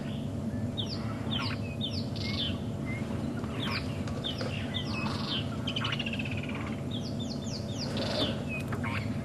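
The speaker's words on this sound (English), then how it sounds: "Woodlands kingfishers calling around us." Woodland kingfishers and starlings call around the listener at sunrise in the Sabi Sand bush, with repeated chirps, trills and whistles from several birds over a steady low hum.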